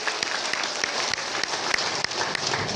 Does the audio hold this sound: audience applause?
yes